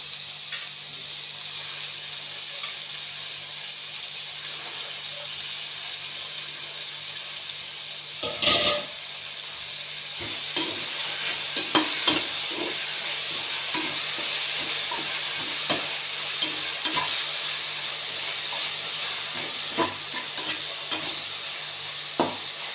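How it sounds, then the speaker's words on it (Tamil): Mint leaves hit hot oil in a pan and crackle into a steady sizzle, with a sharp burst as they drop in and faint stirring clicks continuing throughout at moderate volume. "இப்போ புதினா போட்டுக்கலாங்க"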